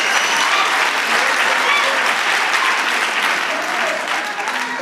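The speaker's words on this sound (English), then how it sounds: "You can give Kwanele a round of applause" Steady, loud audience applause fills a Youth Day rally hall, dense clapping from a large crowd running unbroken throughout and easing slightly at the end.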